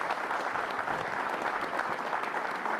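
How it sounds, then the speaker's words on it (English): A school dedication crowd gives a steady round of applause for the children, a dense, even wash of many hands at moderate distance with no break. "Let's have a big round of applause for our kids."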